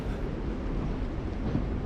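A steady, low rumble of a train in The Walking Dead: The Final Season video game runs evenly throughout as a continuous background drone.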